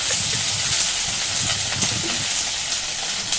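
Oil sizzling in a frying pan while food roasts: a loud, steady close-up hiss with a dense crackling texture and no pauses throughout, no voices.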